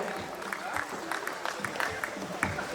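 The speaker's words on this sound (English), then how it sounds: "Please give a round of applause for Mr. Vijay Huda, everybody." An audience at a sportspersons' felicitation ceremony claps in a short burst, moderately loud, with crowd noise and a voice mixed in over the clapping.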